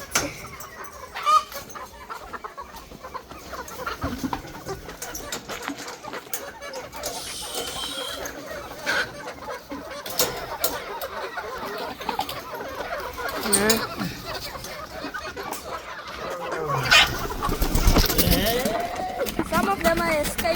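Boschveld chickens on a farm cluck steadily at varying distances, with louder bursts near the end and people talking throughout.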